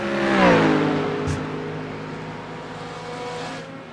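A race car, likely a Corvette, launching hard and accelerating at the Zandvoort circuit, engine note climbing loudly close by before easing into a steadier drone as it pulls away.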